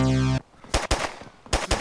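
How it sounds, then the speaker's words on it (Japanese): Sharp, loud gunshots crack in bursts in the video game DayZ after a sustained tonal sound cuts off, several rapid reports close together with brief gaps between. "すげえ、でも銃声。"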